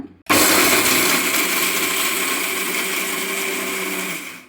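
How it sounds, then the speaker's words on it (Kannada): A kitchen mixer grinder whirs steadily as it grinds fresh coriander leaves for a sprouted moth bean sambar, starting abruptly and running loud and continuous for several seconds before spinning down at the end, with no talking. "ಇದನ್ನ ರುಬ್ಕೊಂಬರೋಣ"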